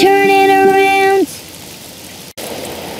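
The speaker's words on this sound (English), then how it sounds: "Oh, it's raining outside." In an animated children's show, a short sustained tone opens, then a steady hiss of rain falling outside continues to the end, briefly interrupted by a click.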